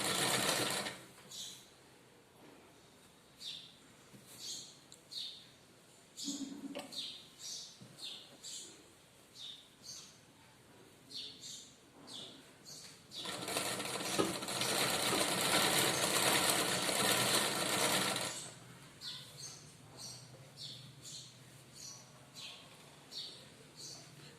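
A sewing machine stitches in short whirring bursts, then runs in one long steady stretch before returning to brief bursts; close and clear, with occasional faint voices in the background.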